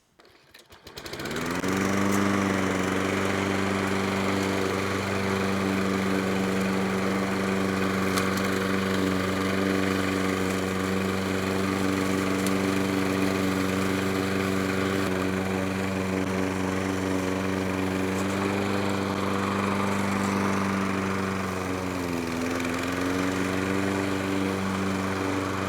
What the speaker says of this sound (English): I always start out mowing my lawn by going around the perimeter